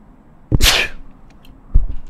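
A single sharp sneeze close by, its hissing burst followed a moment later by a brief muffled sound.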